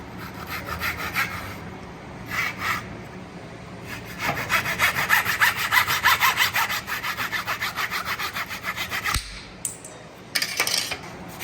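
Hand saw cutting off excess wood from a wedge for an axe handle, a close rhythmic rasp of quick back-and-forth strokes in a steady run, with short pauses and a few scattered bursts around it.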